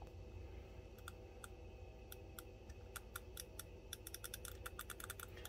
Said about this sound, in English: L and R buttons are very clicky